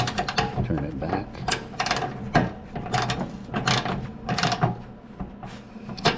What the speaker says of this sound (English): now put our ratchet and socket on there.